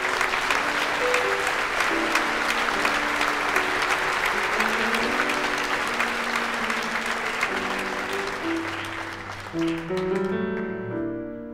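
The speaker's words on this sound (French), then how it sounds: "On l'applaudit bien fort." An audience at a staged musical performance applauds loudly and continuously, dense clapping that slowly fades as music notes begin to sound underneath.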